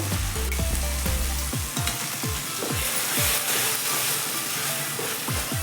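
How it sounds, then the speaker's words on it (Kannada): Ground coconut masala frying in oil for a bitter gourd gravy, a steady loud sizzle with repeated scraping stirs of a spoon against the pan, no voices. "ಮಸಾಲೆನೂ ಕೂಡ ಎಣ್ಣೆಯಲ್ಲಿ 1-2 ನಿಮಿಷ ನೀಟಾಗಿ ಫ್ರೈ ಮಾಡ್ಕೋಬೇಕು, ಹಸಿ ವಾಸನೆ ಹೋಗೋ ತನಕ."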